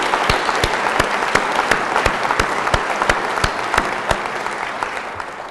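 Sustained applause from a large audience at a mayor's 2013 State of the City address, honoring college and university leaders; dense, steady clapping with sharper individual claps standing out, easing slightly toward the end.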